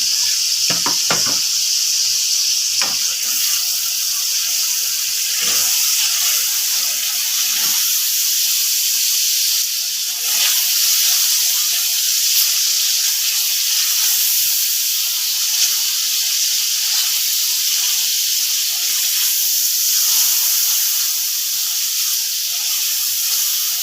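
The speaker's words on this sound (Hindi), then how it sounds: "जी ये मसाला हमारा भुन चुका है" Garam masala and turmeric roast with potatoes in a pan for potato rice, a loud continuous hiss and sizzle running throughout with a few light scraping taps.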